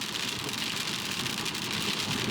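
Steady rain falls on a wintry roadside along Scotland's North Coast 500, a dense, even hiss with soft low rumble, close and continuous with no voices.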